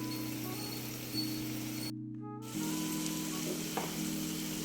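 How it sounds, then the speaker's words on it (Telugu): Ginger paste frying in oil for a Telugu ginger tamarind dish, a steady low crackling sizzle with a brief dropout midway, fairly quiet and free of talk. "ఈ పేస్ట్ అంతా కూడా చక్కగా వేగి ఆయిల్ పైకి వచ్చేంత వరకు కూడా ఇది వేగాలండి బాగా."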